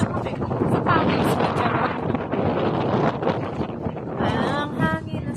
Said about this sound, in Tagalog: Ang hangin, ang sarap.